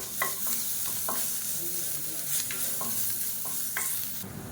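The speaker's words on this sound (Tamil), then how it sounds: "இப்போ பாருங்கள், பூண்டு நல்லா வறுபட்டுருச்சு" Garlic frying in oil in a pan, stirred with a run of repeated scraping strokes over a soft continuous sizzle, close and moderately quiet, no voices.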